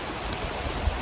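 Heavy rain pours down during a Kalbaishakhi storm in a mango-gathering spot, a dense, steady wash of close, loud downpour filling the short stretch with no voices.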